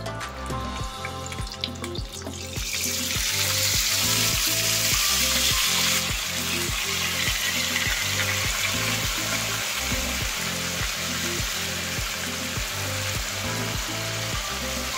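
Maya-maya fish frying in a pan erupts into a loud, steady sizzle as sauce is poured in, with rhythmic scraping and stirring knocks running underneath throughout.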